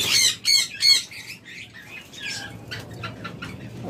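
Caged pet birds kept as a breeding pair, giving three sharp loud squawks in quick succession followed by softer chirps and wing rustles nearby.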